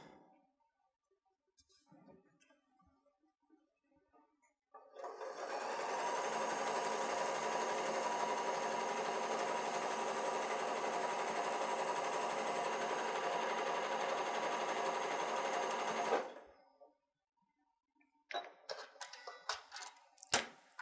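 A sewing machine sews a pumpkin applique onto an autumn fabric bucket, one loud, even, continuous whir lasting about eleven seconds, with quiet clicks and fabric handling before and after.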